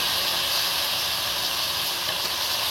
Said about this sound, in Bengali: আর এই যে আলুগুলো এর মধ্যে দিয়ে দিচ্ছি।